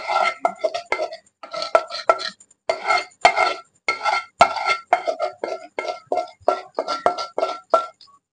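Cooked Afghani paneer being tipped from a pan onto a plate. A close, irregular series of sharp metal spoon clinks and scrapes against cookware runs steadily throughout, with no talk.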